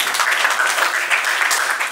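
Audience applause for education ministry officials at a gathering for a new school, a dense burst of crowd clapping, loud and continuous.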